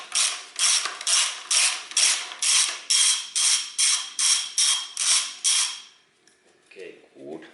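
A hand ratchet loosens a bolt while a timing belt is being replaced on a 1992–2002 Toyota Corolla. About a dozen evenly paced clicking strokes sound close up, then stop, leaving quiet handling noise.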